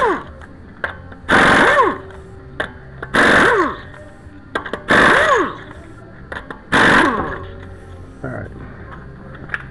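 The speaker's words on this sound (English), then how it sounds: "we're going to go ahead and take off the lug nuts" An impact wrench loosens the lug nuts on a 2003 Honda CR-V up on a lift, giving four short, loud whirring bursts about two seconds apart, with quiet pauses between them.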